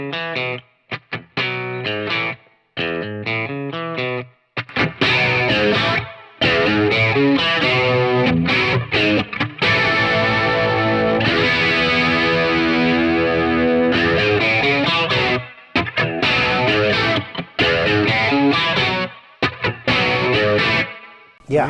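Electric guitar through a WA-C1 chorus pedal on its classic CE1 setting with some gain, playing a riff; loud, full, shimmering chorded phrases with brief pauses near the start, then sustained continuous playing.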